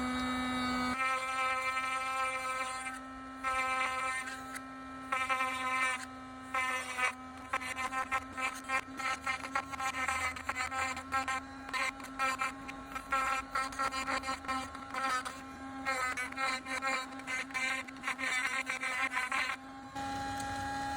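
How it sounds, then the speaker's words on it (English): A battery-powered Dremel Lite rotary tool engraves detail into wood, its high, steady motor whine running throughout and dipping briefly in pitch and loudness as the bit bites and lifts in short bursts. "I'm using the Dremel Lite just because I don't have a plug out here and it's really easy to do detail work."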